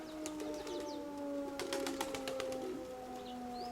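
Domestic pigeons in a loft, a cock bird being paired with a hen, give soft cooing calls and chirps against a steady background hum, with a few brighter calls overlapping midway through.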